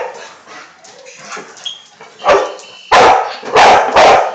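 A dog barks in several sharp, loud bursts close by, with whimpers and softer sounds in between and brief background voices.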